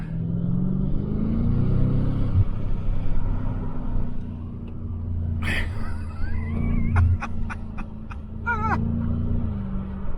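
A BMW M5 runs laps on a track, its engine holding a steady droning rumble that shifts pitch as it accelerates, with brief squeaky tire or chirp sounds near the end.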